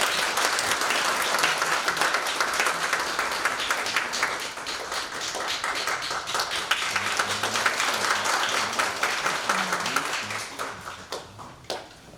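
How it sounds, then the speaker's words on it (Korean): Warm applause from a concert audience welcoming a performer before a Johann Strauss Voices of Spring waltz, sustained dense clapping that thins into scattered individual claps at the end. "큰 박수로 환영해 주시기 바랍니다"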